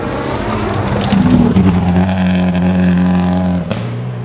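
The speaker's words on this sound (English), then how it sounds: "Car sounded okay accelerating away. It went through the revs fairly smoothly. Anti-lag's working." A rally car in the super production class pulls away hard on Concord Pond stage, its engine climbing steadily through the revs with anti-lag popping, loud and close, then cutting off abruptly near the end.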